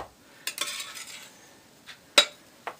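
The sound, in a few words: spreading snickerdoodle bar dough in a pan with cake icing tool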